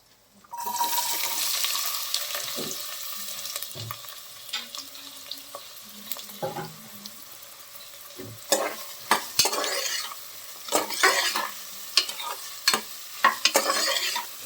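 Onions frying in a little sesame oil, a steady close sizzle running throughout with scattered sharper clinks and scraping stirs growing more frequent toward the end.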